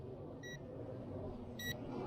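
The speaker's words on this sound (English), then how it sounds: "We're getting the telemetry beep from the transmitter here." Short electronic telemetry beeps from the transmitter of an Eachine EX5 4K GPS drone, two brief tonal chirps about a second apart over a steady background hiss.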